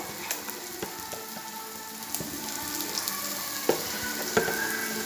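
Chili powder and coriander powder frying in a pan for a jackfruit seed curry produce a soft, steady sizzle with light crackles and occasional sharp ticks, heard close and fairly quiet.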